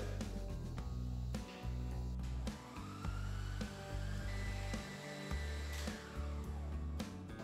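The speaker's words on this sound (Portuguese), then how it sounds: "bater mais ou menos uns 2 ou 3 minutinhos. Sempre em velocidade baixa da batedeira." An electric stand or hand mixer beats cookie dough at low speed, a steady close motor whine with slight pitch shifts, running continuously with brief dips throughout.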